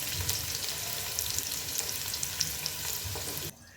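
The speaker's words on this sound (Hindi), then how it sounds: "अब यहाँ डालेंगे जी एक बड़े साइज़ का प्याज है, ये डाल देंगे। इसको लाइट से ब्राउन करेंगे।" A large onion sizzles steadily in hot oil as it is stirred toward light brown, a dense crackling hiss that holds throughout and cuts off abruptly near the end, with no voices.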